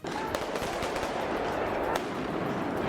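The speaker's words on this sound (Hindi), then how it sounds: "पुलिस को उन्हें काबू करने के लिए आंसू गैस के गोले और रबर की गोलियां दागनी पड़ी" Police fire tear gas shells and rubber bullets at a crowd of protesting teachers: dense, continuous crackle of rapid bursts with sharp louder pops scattered through, loud and sustained without a break.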